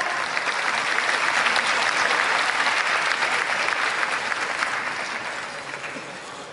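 Audience applause at the Race Queen award ceremony stage at Tokyo Auto Salon 2023, dense sustained clapping from a crowd that holds steady, then gradually tapers off toward the end.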